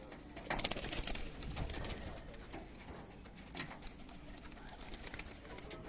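Pigeons coo softly in a breeder's rooftop loft, a few low murmuring calls near and far amid faint rustling and background bustle, with no talk.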